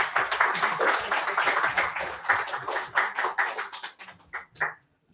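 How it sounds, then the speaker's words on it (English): A small audience applauds local residents at a neighbourhood community event. The dense, close clapping carries steadily, then thins to a few scattered claps before stopping. "So can you give them a round of applause?"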